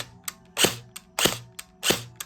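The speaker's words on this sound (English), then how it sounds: "Okay, gun still works." A battery-powered toy gun running on a 9.6 V pack fires three sharp, close cracks about half a second apart, with faint lighter clicks between the shots.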